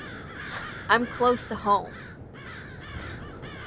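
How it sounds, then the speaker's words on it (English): Several crows caw in a quick series of four loud, harsh calls close by, circling overhead, while a person speaks softly before and after. "And there are my friends, the crows. All 6 are there, circling around me."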